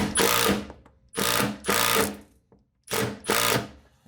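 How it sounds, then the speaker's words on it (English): A handheld driver tightens a screw to set a rivnut, giving several short bursts of close, loud whirring separated by brief pauses. "Then you're going to be pushing this in with your driver"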